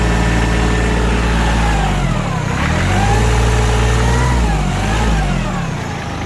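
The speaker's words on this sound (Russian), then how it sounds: "На акселератор отзывается трактор очень хорошо, двигатель развивает обороты сразу, без какой-либо паузы, четко, ровно." Kubota L1-275 compact tractor with a loader, its diesel engine revving up and down in smooth waves, loud and close throughout, no voices.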